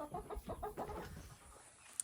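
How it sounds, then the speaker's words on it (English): Short clucking calls from a rooster in a barnyard come in a quick burst early on, then fade into quiet outdoor ambience with a brief sharp click near the end. "this is a beautiful rooster here"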